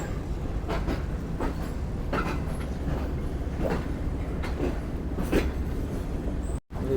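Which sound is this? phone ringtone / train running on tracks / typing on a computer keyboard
train running on tracks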